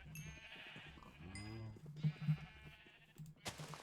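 Several sheep bleat on and off in a Minecraft-style farming game, wavering calls near and clear, followed by a short burst of game noise at the end and no speech.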